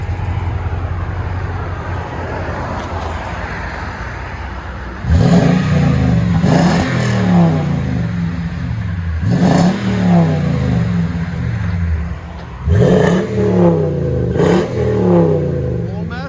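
A 2010 Toyota Tundra 5.7L V8 with a Flowmaster Super 50 exhaust revs hard from a steady idle in repeated loud blips, each rising and falling back to a deep, clean rumble.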